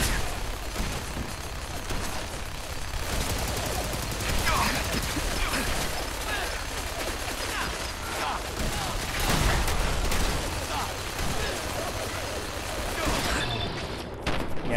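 Sustained gunfire rattles through a Fallout 4 firefight during the Operation Manhattan quest mod, a dense, continuous barrage of shots and mechanical clatter lasting throughout, with voices talking over it.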